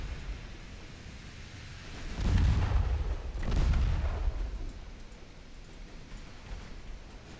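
Naval gunfire and shell hits in the Ultimate Admiral Dreadnoughts video game sound as two deep, rumbling booms a second or so apart, each swelling and fading over a low background hiss.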